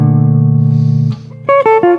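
A descending augmented arpeggio lick on electric guitar: a sustained low note, then a quick run of distinct plucked notes stepping downward, close and clear, with no voices.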